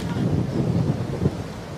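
Strong wind gusts roar steadily across an outdoor lawn bowls green at a world championship singles final, a continuous low rushing buffet with a slight surge near the end, no voices heard.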